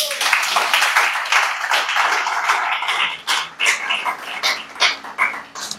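Audience applause at a talk, a dense wash of clapping that thins out and breaks into scattered bursts toward the end.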